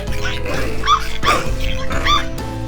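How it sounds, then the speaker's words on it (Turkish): Dogs yip and whimper in short repeated bursts, close by, a few high cries spaced over a couple of seconds. "Zombi köpek istilası var ve Adri'yi ısırdılar."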